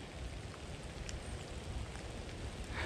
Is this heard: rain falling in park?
yes